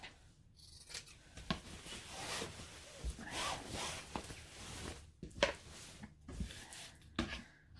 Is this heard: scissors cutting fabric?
yes